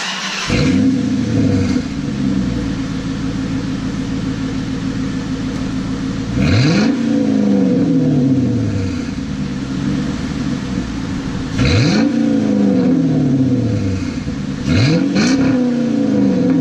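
A 2006 Dodge Charger R/T with stock manifolds, catalytic converters and the mufflers deleted idles loudly, with four sharp throttle blips that rise and fall in pitch over a deep steady idle.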